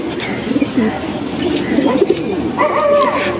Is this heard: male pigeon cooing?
yes